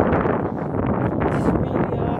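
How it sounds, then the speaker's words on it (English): Strong wind gusting across a microphone at an outdoor battleship site, a dense, continuous low rumble and buffeting roar filling the short stretch with no quiet gaps. "I know it's windy, so forgive me about that."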